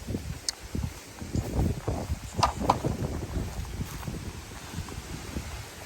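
Strong storm wind gusting around a small hut in a rice field, a steady roar with buffeting rumbles against the microphone and rustling rising and falling throughout, no voices.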